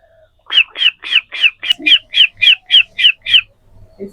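Vocal imitation of a baby chick's cheeping: about eleven evenly spaced, close, high-pitched peeps in a steady rhythm, with only brief faint background noise.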